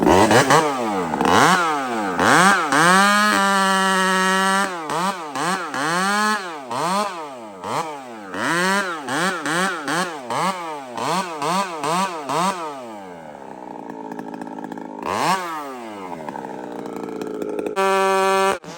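Chainsaw cutting into a tree, the engine revving up and down in a rapid rocking rhythm as the bar is worked back and forth, loud and close, with a short idle lull before a final burst of revving.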